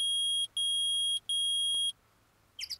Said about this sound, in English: It's beeping! Metal detectors found something!